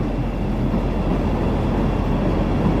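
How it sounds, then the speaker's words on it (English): Chicago L elevated train rumbling overhead beneath the station near Wells Street, a steady, loud, low roar filling the whole moment without pause. "We'll hear the L train going by here."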